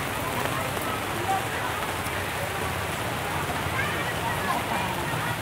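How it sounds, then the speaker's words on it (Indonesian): Steady rain pours down in a dense, even hiss across an open outdoor traditional village market in Indonesia, with faint voices and activity in the background. "lihat ini hujan di mana-mana. Pekannya sudah diguyur hujan."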